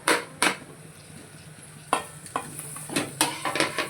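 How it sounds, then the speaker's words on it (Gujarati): Tomatoes stirred in a sizzling pan while cooking a Gujarati green turmeric curry, with steady frying hiss under repeated scraping and clattering stirs of a utensil against the pan, close by and without speech. "ટામેટા નાખશું થોડી વાર ચડવા ટામેટા નાખી દઈશું"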